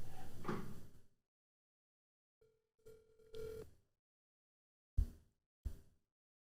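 A phone call rings out over speakerphone, held up to a microphone: faint ringback tones arrive in a few separate bursts with gaps of silence between them, following a louder noisy stretch at the start.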